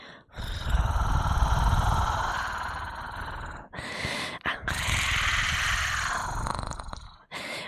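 A person imitates a cat's purr with a continuous low rumbling drone, close and fairly loud, broken by two short pauses before resuming.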